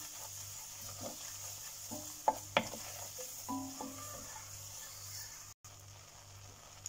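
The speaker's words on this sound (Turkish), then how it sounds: "Şimdi salçamızı da kavuralım." Tomato paste and flour fry in a pot while being stirred for lentil soup, giving a soft continuous sizzle with scraping spoon strokes and a few clinks against the pot, over a low steady hum.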